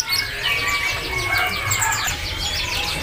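Caged songbirds at a bird-market kiosk fill the air with dense, overlapping chirps and tweets, steady and close throughout, with brief wing flutters and no talking.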